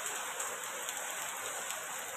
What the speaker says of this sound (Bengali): সকাল থেকে উঠে বৃষ্টি, এতদিনে জল হচ্ছে।